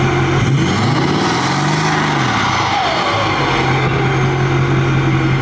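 A 6.4 diesel pickup truck engine, running loud and close, gives one brief rev that rises and falls in pitch before settling back into a steady, rumbling idle.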